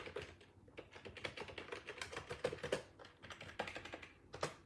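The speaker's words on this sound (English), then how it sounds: "I'm going to try to type that in there." Typing on a computer keyboard, close, quick irregular runs of light key clicks with brief pauses between bursts, no talk over them.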